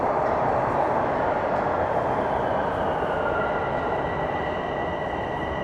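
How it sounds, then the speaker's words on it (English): A Toronto subway train at Museum Station rumbles steadily and loudly throughout, with a faint high wheel whine above the broad rolling noise; no one speaks. "Oh, it's a northbound train."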